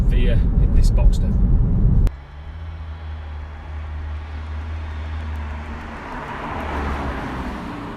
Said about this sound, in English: So that's the final drive of 2020 in my Boxster S